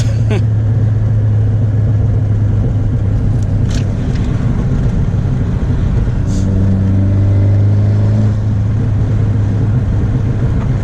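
A turbocharged Honda Civic FK7 hatchback drones steadily on the move, its exhaust note deepening and burbling for a few seconds past the midpoint against constant road and engine noise.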